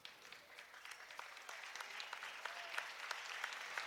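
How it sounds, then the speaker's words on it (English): A gym crowd at a girls' high school basketball game applauds both teams during substitutions, a steady patter of many hands clapping, faint and distant, with a few sharper claps standing out near the end. "crowd gives both teams a hand here as more substitutions"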